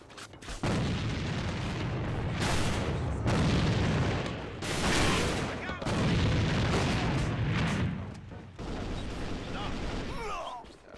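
Grenade blasts and gunfire in the shooter Alliance of Valiant Arms, several heavy booms in bursts with short gaps between them, loud and close, with voices mixed in.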